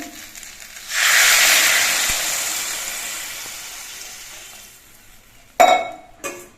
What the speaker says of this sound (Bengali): এবার এর মধ্যে আমি ঝোল দিচ্ছি